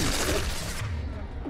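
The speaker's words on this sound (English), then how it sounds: "Firing an impact shot." An impact shot fires in Mass Effect 2 amid sci-fi combat, a dense burst of crackling gunfire that cuts off partway, leaving a lower rumbling tail.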